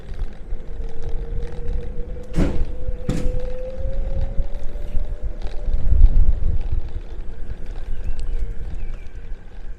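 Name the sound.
strong wind blowing into the microphone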